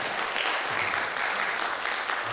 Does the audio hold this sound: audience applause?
yes